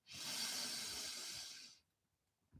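A long, deep, airy breath drawn in during a guided meditation, close and hissing for nearly two seconds before falling quiet.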